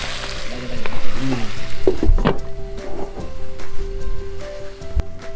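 Pork fries in a pan while cooking outdoors in a backyard, with a steady, fairly loud sizzle and crackle. A few clinks and stirring scrapes of a utensil in the pan come through on top of it.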